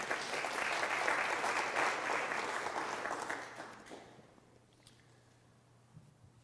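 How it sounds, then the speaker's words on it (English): A church congregation applauds during a presbytery sermon, a soft spread of clapping at a distance that fades away after a few seconds and leaves quiet room tone. "that's worth applause."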